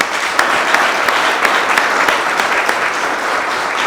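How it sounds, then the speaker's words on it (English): A warm round of audience applause at a holiday party event, loud and close, with dense clapping and a few sharper individual claps standing out through the short burst. "So give yourselves a warm applause."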